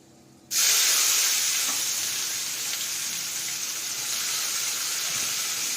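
Chopped onions hit hot oil seasoned with whole garam masala, black peppercorns and cumin seeds, and a loud, dense sizzle bursts up at once and holds steady. No voices.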